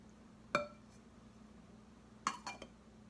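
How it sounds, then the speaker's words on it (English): A spoon clinks against a bowl while baking soda is stirred into a homemade lemon-lime foot scrub: a single sharp clink, then a second knock followed by a couple of lighter taps, all faint over a quiet background. "And we give it a stir."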